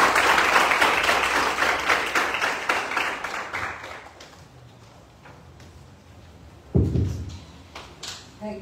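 An audience at a UPSC exam guidance talk breaks into loud applause to welcome the speaker. The clapping fades out after about four seconds, then a single heavy thump follows, with a few light knocks after it.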